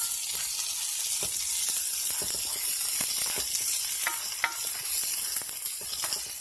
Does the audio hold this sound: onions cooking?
yes